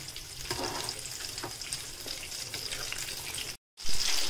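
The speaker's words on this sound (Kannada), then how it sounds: "ಡೀಪ್ ಫ್ರೈ ಮಾಡಿಕೊಡ್ರಿ, ಚೆನ್ನಾಗಿರುತ್ತೆ." Chicken kebab deep frying in hot oil, a steady loud sizzle and bubbling close by with faint stirring, a brief dropout near the end before the frying resumes.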